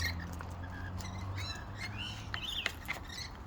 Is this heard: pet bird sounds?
yes